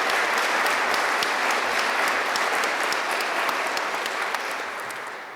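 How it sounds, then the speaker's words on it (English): Sustained applause from a large audience fills the hall at a graduate commencement ceremony, a dense, even clatter of many hands that holds steady and begins to fade toward the end. "Please, one more round of applause for all the people who made it possible for our graduates to be with"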